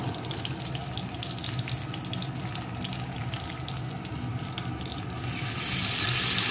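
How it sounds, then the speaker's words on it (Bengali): Warm water poured into a pan of fried potatoes and elephant foot yam for a rohu fish curry, a steady loud running-water rush over faint frying that swells brighter near the end. "এখন এর ভিতরে দিয়ে দেবো আমি পরিমাণ মতো জল।"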